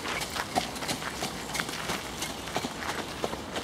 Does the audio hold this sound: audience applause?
no